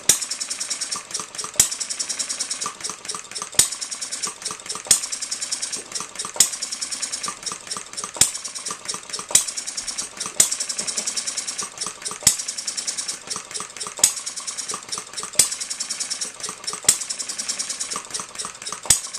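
A small Economy hit 'n miss model engine keeps running nearby, a continuous fast ticking clatter punctuated by regular sharp firing pops roughly every one to two seconds.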